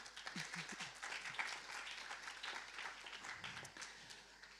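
Audience applause at a conference on Europe: steady, dense clapping from a crowd, heard faint and distant, continuing throughout with no break.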